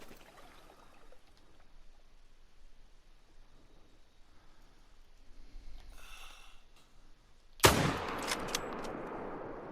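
A rifle shot at a red deer stag in a hunting video game cracks out sharply after a quiet stretch of faint ambience, followed by a short rolling echo and a couple of small trailing knocks.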